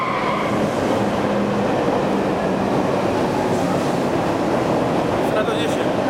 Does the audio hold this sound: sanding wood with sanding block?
no